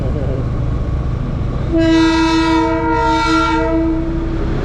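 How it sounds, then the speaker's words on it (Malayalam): A toy train's horn blares in a long, steady tone over continuous rumbling rail noise as it passes, close and loud, with a slight dip midway before it resumes. "ഇതുപോലെ ഇടയ്ക്കിടയ്ക്ക് ടോയ് ട്രെയിനുകൾ നമ്മളെ കടന്നു പോകുന്നുണ്ടായിരുന്നു"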